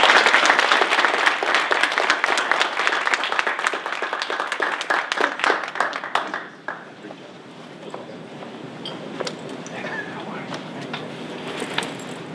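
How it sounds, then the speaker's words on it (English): An audience at a tech conference applauds after a talk on microservices in Java, the clapping loud at first and then thinning into scattered claps, with a voice heard under it. "Hey, let's give a round of applause."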